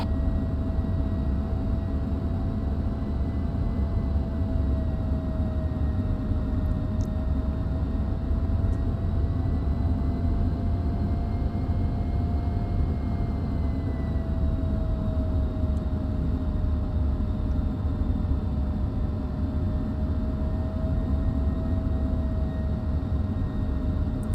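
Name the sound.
military aircraft taxiing to runway 24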